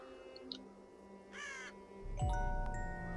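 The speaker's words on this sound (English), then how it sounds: "That's a lot of crows." A crow gives a short, harsh caw in the forest of the Child of Light game, set against soft ambient music and a faint chiming tone near the end.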